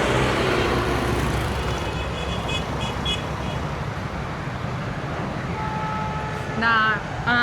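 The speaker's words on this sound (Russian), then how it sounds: "Трафик." Busy road traffic in Santo Domingo, Dominican Republic, a loud, continuous rumble of engines and passing vehicles close by, with a faint voice and brief higher tones near the end.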